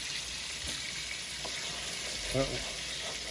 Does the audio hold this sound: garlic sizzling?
yes